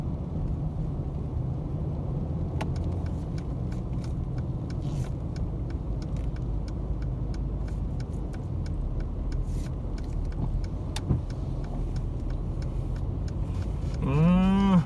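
Road traffic crawls through a jammed Bangkok street near Ratchaprasong and Witthayu Road, a steady close engine rumble with passing vehicles throughout and a rising horn-like tone at the very end.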